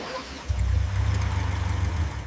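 A restored luxury car recovered from a deep-sea shipwreck kicks in after a brief pause and settles into a steady, low, throbbing engine rumble, close and fairly loud.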